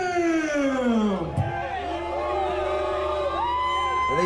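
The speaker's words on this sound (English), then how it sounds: "No, they're whooping." Crowd at a Gathering of the Juggalos show whooping and cheering, many voices rising and falling in long sliding whoops, loud and sustained throughout.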